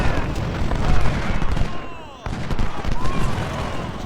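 Artillery pieces boom repeatedly across a Civil War battle video game battlefield, mixed with scattered musket fire and a dense battle din, with a brief lull midway.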